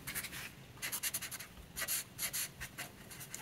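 A pen or pencil writing digits by hand on paper, quiet rhythmic scratching strokes in short bursts with brief pauses between them, close and alone.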